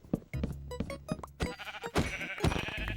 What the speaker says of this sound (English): there are a few sheep luckily here, so we'll be sorted for that